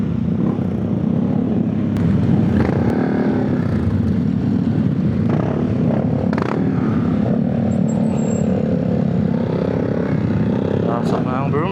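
Motorcycles ride up onto a ferry at Batangas Port, engines idling and revving amid clattering ramp noise and general port bustle, with voices talking over the mix.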